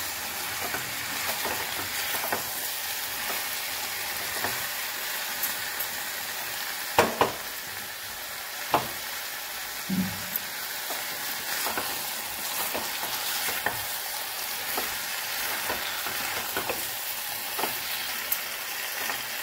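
Shrimp in soy sauce with garam masala frying in a pan, a steady sizzle running throughout under intermittent spatula scrapes and a few sharp taps on the pan.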